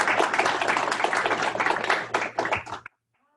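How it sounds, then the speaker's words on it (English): Applause for faculty at a nursing white coat ceremony, a dense burst of clapping from an indoor audience lasting a few seconds before cutting off abruptly. "let's give our faculty a round of applause"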